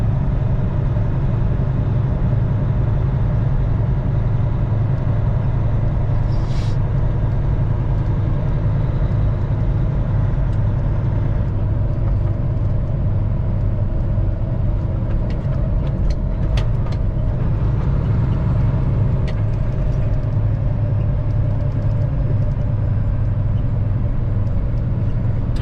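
A truck with a lift pusher axle drives on icy Michigan roads, its engine and road noise forming a loud, continuous low drone from inside the cab, with occasional faint clicks and rattles.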